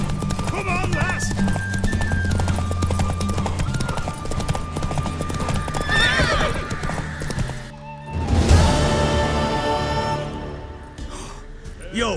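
Horse hooves galloping in The Witcher 3, a fast rhythmic clip-clop of hoofbeats with a whinny, layered under character voices and game music, then a crashing burst before the galloping resumes.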